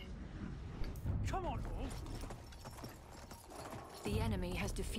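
Horse hooves clip-clop at a gallop in the Battlefield 1 video game, mid-level and steady, blended with mechanical creaks and game noise, while someone talks over it.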